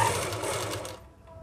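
A sewing machine runs up a seam on a pant pocket in a brief, close, rapid buzzing whir that cuts off after about a second, leaving a faint hum.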